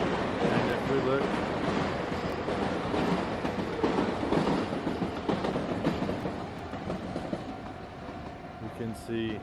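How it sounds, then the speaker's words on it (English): A Nankai line train rumbles past in a continuous loud wash of rail noise, fading toward the end, while a person talks over it. "So the Nankai train line runs through here"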